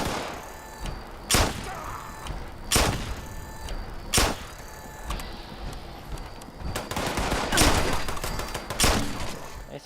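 Gauss pistol gunfire in the video game Fallout 76, a series of sharp, loud shots spaced about a second or so apart, some closer together toward the end, over a steady background din.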